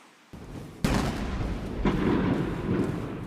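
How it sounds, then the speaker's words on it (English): Ceremonial cannons firing across Tiananmen Square during a Chinese military parade: a sharp, heavy boom followed by another blast, each leaving a long rumbling roar that echoes and lingers across the open square. "With the sound of cannons firing across Tiananmen Square"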